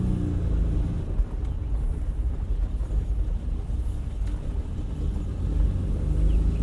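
A Ferrari 330 GTC cruising down a quiet road, with a low, steady engine rumble and road noise and wind buffeting against the microphone throughout, and no one talking.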